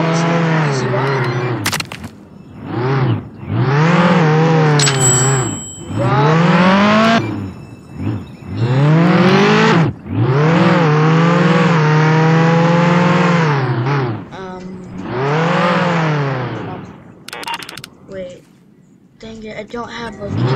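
Car engine revving and accelerating in the Roblox game Jailbreak, loud repeated surges that climb and fall in pitch over about twenty seconds, with occasional tire squeal; a voice talks between the revs.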